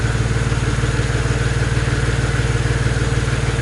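A turbocharged buggy engine running on E85 fuel holds a steady, rapidly pulsing idle with a slight rise in RPM, loud and close, with no voices.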